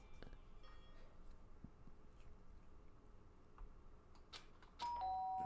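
Doorbell chime from the Danganronpa video game: a short, clear two-tone ding near the end, rising over a quiet, low background hum with no talking.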